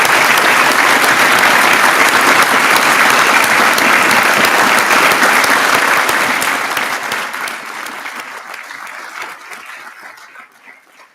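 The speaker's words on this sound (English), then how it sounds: "could you help me to give them a really big round of applause?" A large crowd at a graduation ceremony claps loudly and steadily, then the applause gradually thins and fades away.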